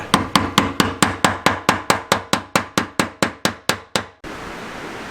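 About sixteen sharp metallic hammer strikes on a fuel tank lock ring, in a steady rhythm, each ringing briefly, followed by a hiss of broadband noise.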